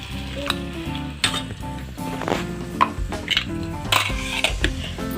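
Onion, tomato and a masala paste of coconut, tomato and ginger-garlic fry in a pan, with close clattering and scraping of a spoon against metal over a steady low sizzle and no talking.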